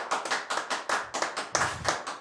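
A few hands clap in a steady, fairly close rhythm for a couple of seconds, with no talking over it.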